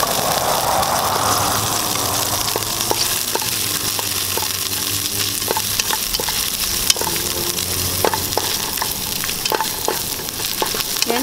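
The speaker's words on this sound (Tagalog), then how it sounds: "pagka mainit na po yung ating mantika, pwede na po nating igisa itong ating bawang." Garlic sizzling and frying in hot cooking oil in a pan, a steady loud sizzle with occasional stirring and scraping, no voices.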